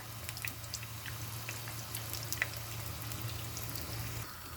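Eggplants frying in oil in a large pan, giving a soft steady sizzle with scattered crackles and pops and a low hum beneath, close and quiet.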